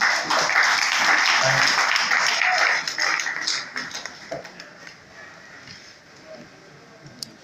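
Audience applause at a book launch for a grammar text on journalistic writing, loud, dense clapping for about three seconds, then thinning into scattered claps that fade away.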